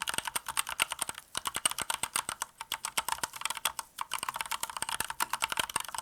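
Fast, steady clacking of office-oriented mechanical keyboard keys, close and crisp, with a few brief pauses between bursts.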